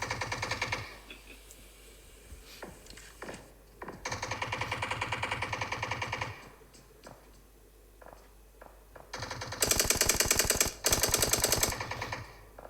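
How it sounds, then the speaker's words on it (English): Automatic gunfire in a PUBG battle royale match, loud rapid bursts of shots with pauses between them, including a long sustained volley early on and two fierce dense bursts near the end. "So there's a lot of shots going everywhere now."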